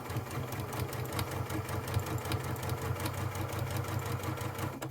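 Sewing machine stitching quilt binding, a steady rapid mechanical hum and chatter running continuously at a moderate level, with no talk.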